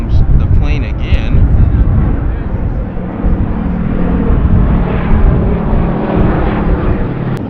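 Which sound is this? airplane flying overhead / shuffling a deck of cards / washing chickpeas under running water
airplane flying overhead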